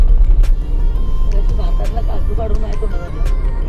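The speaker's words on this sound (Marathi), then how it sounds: "भरपूर ट्रॅफिक आहे रस्त्यामध्ये" Heavy road traffic rumbles steadily from nearby cars and other vehicles, with a low continuous engine drone and occasional passing swells, under a person talking.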